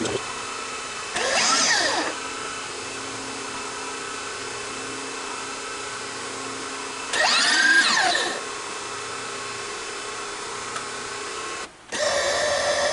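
A milling machine hums steadily while two loud whirring bursts of a spinning edge finder rise and fade, followed by a brief dropout and the hum resuming.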